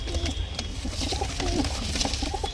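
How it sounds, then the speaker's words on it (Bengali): Hand-picked red pigeons and Andhra pigeons coo softly and repeatedly beneath a constant broad background hiss and noise. "দেখে নিন পায়রাগুলো দেখুন চেক করে নিন"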